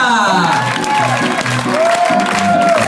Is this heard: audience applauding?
yes